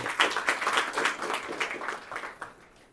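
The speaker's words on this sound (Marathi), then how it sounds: "टाळ्या वाजून देवाला धन्यवाद" Church congregation clapping in thanks to God during a Sunday service, a dense burst of many hands that stays loud for a couple of seconds and then thins and fades toward the end.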